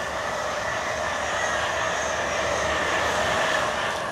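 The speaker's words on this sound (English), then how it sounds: "I hear one more train. Is this finally it?" An LNER train bound for Aberdeen passes steadily at a moderate distance, giving a smooth, even rumble with no voices heard.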